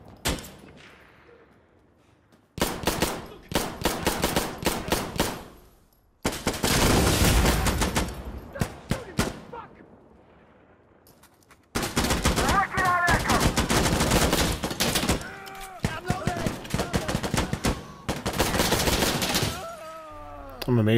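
Gunfire from the video game Insurgency: Sandstorm, including an M82A1 CQ .50 cal sniper rifle, with loud sustained bursts of rapid shots separated by brief quieter gaps, heavy and close.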